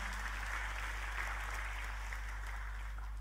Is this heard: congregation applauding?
yes